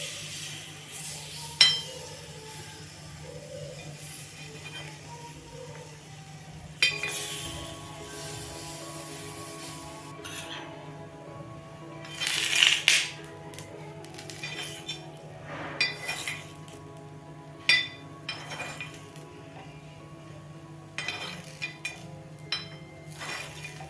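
A utensil clinks sharply against a kuzhi paniyaram pan while the dumplings are flipped, with scattered light taps and scrapes over a low, steady stove hum and no talk.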